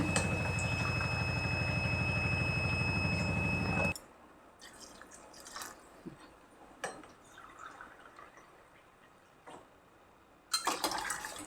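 Water is poured into a pot of soup on the stove, a steady rushing pour lasting a few seconds, then quieter scattered drips and light clinks.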